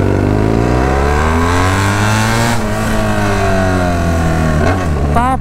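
BMW F800 motorcycle with a straight pipe exhaust revving loud and close on a street, a raw droning engine tone rising and falling in pitch with a sharp blip near the end.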